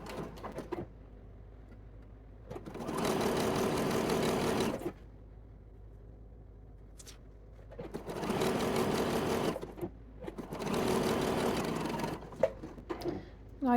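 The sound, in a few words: sewing machine stitching lace bodice seam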